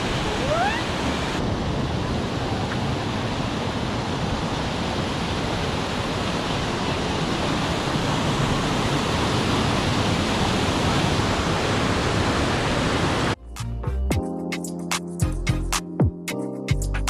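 Copeland Falls, a waterfall in Rocky Mountain National Park, Colorado, gives a close, loud, continuous roaring rush of water that holds steady for a long stretch, then cuts off abruptly to quieter scattered sounds.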